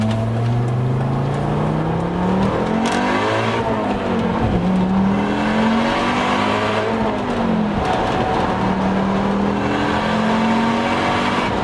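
A big-turbo Volvo S60R accelerates hard, its engine note climbing in long sweeping pitch rises that drop back at each gear change, loud and continuous throughout with no talking.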